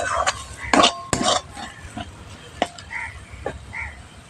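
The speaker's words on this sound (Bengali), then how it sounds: "এই লোটে মাছটা কিন্তু এইভাবে নেড়ে নেড়ে একদম শুকনো করে নিতে হবে" Lote fish (Bombay duck) being stirred and tossed in a pan until dry, with a spatula scraping and clacking against the metal in several sharp strokes and softer scrapes, close and fairly clear.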